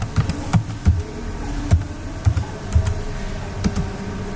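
A product title being entered on a computer keyboard, with crisp, irregular clusters of keystrokes tapping close by in quick bursts and short pauses, with no voice over them.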